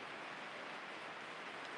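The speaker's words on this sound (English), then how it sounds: "Can you hear that rain?" Rain falls steadily outside, a soft continuous hiss with no breaks and no voices over it.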